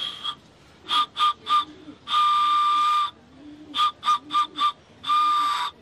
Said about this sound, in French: Comme un train qui siffle.